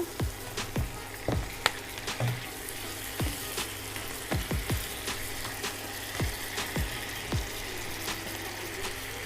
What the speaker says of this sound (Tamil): இப்போது சிக்கன் போட்டுக்கலாங்க.